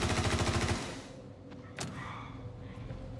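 Light machine gun with an 8x scope firing in Star Citizen, a fast rapid burst of loud shots in the first second, then fading to quieter game ambience with a sharp hit or two.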